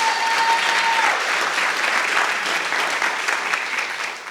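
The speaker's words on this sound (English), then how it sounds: "Give her a round of applause, Ms. Sandra Stubbs" Audience at a Founders' Day convocation applauding an honoree, a full, even wash of clapping from a large crowd that carries through and fades a little at the close.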